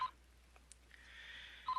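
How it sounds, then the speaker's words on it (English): A telephone rings in the Famicom Detective Club Part 2 video game: a short electronic chirp, then a steady warbling ring of moderate loudness that breaks off and restarts near the end, with no talk. "Oh, the phone."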